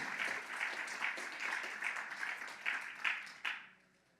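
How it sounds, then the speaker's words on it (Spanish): Church congregation applauding the Lord during a sermon, a dense wash of hand claps with rhythmic surges that fades out near the end. "Un aplauso al Señor."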